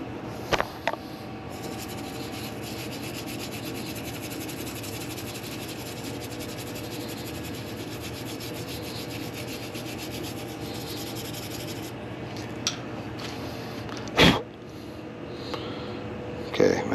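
Stiff brush scrubbing steadily against a surface during a cold radiant floor heating repair, a continuous close rasping rub with a few sharp knocks near the end.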